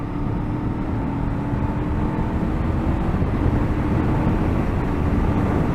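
A 2024 Honda SCL500 scrambler motorcycle accelerates hard after a downshift, its engine a steady, loud broadband roar mixed with wind rush, continuous and close throughout.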